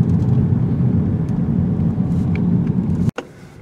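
A 2018/2019 Audi A5 Sportback with all-wheel drive, heard from inside as a steady loud road and engine rumble that cuts off abruptly near the end.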